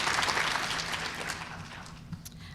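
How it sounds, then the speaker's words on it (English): An audience at a primary care quality collaborative event applauds its 163 physicians, a broad round of clapping that starts strong and gradually thins out over a couple of seconds. "Can we give one more round of applause to our 163 physicians?"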